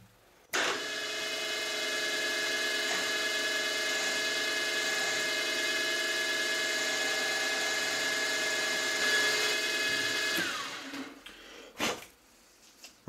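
A metal lathe spins a part held in a collet chuck at 1000 RPM, giving a steady, loud whining hum with a constant pitch for about ten seconds before it winds down and stops.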